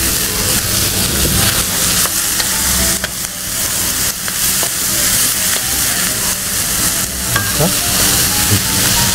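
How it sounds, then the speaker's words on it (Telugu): Ridge gourd pieces fry and sizzle steadily in a hot pan for an organic coconut-milk curry, a loud continuous crackle with stirring scrapes and no voices. "కొంచెం వేగిన తర్వాత మనం బీరకాయ ముక్కలు కూడా వేసేస్తాం."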